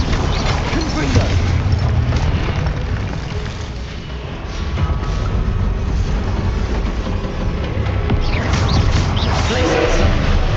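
Confringo explosive spell cast in the video game Hogwarts Legacy, dense rumbling blasts and crashes rolling continuously at high volume for about ten seconds, with a brief dip in the middle.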